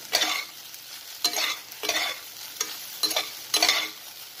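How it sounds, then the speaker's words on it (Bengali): A spatula stirs salted egg dish in a frying pan in about six distinct scraping strokes, spaced roughly half a second apart, over a faint sizzle. "ভালো করে একটু নাড়াচাড়া করলে"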